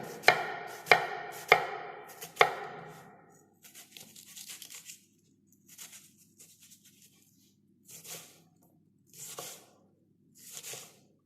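An onion being chopped and diced on a cutting board: four sharp, loud knife strikes at the start, then softer, slicing and scraping cuts in spaced bursts, with no voices.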